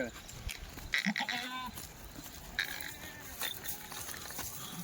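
Kathewadi goats bleat in short bursts at a farm where newly arrived goats are unloaded, mixed with people talking nearby and general livestock bustle.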